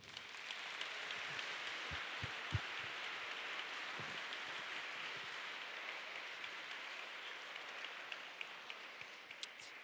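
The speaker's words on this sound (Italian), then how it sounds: "vi chiedo un caloroso applauso" Audience applause after a call for a warm round of clapping at a legality event, dense steady clapping sustained for about ten seconds at moderate distance with a few sharper individual claps standing out.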